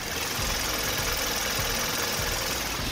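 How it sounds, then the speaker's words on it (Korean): A Kia K7 gasoline car's engine idles with the hood open, a steady, close, even hum with a faint mechanical tick and no voices. "엔진 소음을 담기 위해 본네트를 한번 열어봤는데요. 영상으로 엔진 소음 한번 담아보도록 하겠습니다."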